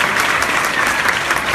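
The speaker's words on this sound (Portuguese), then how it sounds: "Palmas para a Tânia Bacelar, a grande economista do nosso país." A forum audience claps for an economist at the closing of an international territorial development forum, a brief, dense burst of many hands applauding at steady loudness with no voices.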